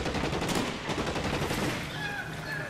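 Rapid gunfire from the game L.A. Noire, a dense continuous rattle of shots filling the whole moment at steady loudness with no talking over it.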